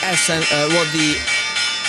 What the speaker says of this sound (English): So we are now ringing the closing bell.